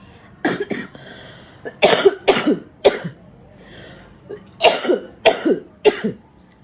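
A person coughs repeatedly in short clustered bursts, loud and close, with brief quiet pauses between the fits.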